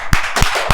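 Three sharp, loud hand claps spaced evenly about three tenths of a second apart, close by and standing alone without talk.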